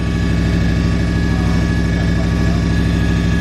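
A cammed Ram truck engine idles fast and loud on first start, a deep throbbing rumble with a steady choppy pulse, close up and unbroken throughout.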